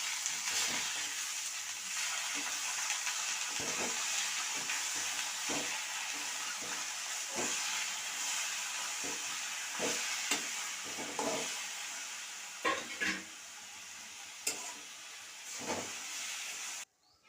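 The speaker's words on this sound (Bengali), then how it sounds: "এখন আমি শাকটা ঢেলে দেবো" Jute greens sizzle steadily in a hot pan with fried onion, garlic and chilli while a utensil scrapes and knocks against it in irregular strokes, close by.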